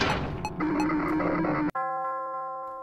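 In a Five Nights at Freddy's fan game, a loud cluttered din cuts off sharply and a clear bell chime rings out alone, its ringing tone sustaining and slowly fading.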